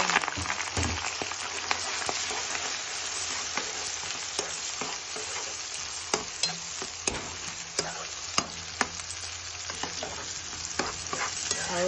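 Shrimp fried with fish sauce sizzles in a pan as a spatula stirs it, making a dense, close hiss broken by frequent sharp clacks and scrapes against the metal throughout.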